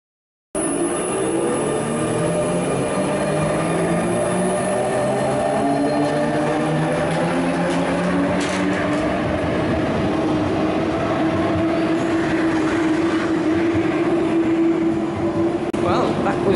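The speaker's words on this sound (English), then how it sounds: "that was our second RER experience" A Paris RER commuter train rumbles along from inside the carriage, a loud continuous roar with rising and falling motor whine and track noise, and voices heard faintly under it.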